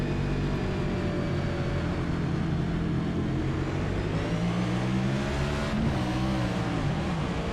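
Onboard a NASCAR race car at North Wilkesboro, the engine roars steadily on throttle, its pitch rising and falling through the run, loud and close with no speech.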